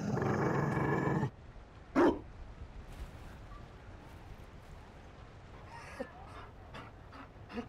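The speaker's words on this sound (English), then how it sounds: "You found a dog." A Mabari war dog in Dragon Age Inquisition gives a short, close bark-like growl amid quiet game ambience, after a louder burst of noise at the start and a few faint scattered sounds later.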